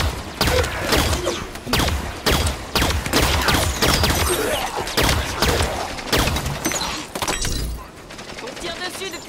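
Rapid gunfire in Halo 5 rattles in loud, close bursts with sharp impacts and clatter, continuous and intense, easing toward the end, with voices speaking amid the shooting.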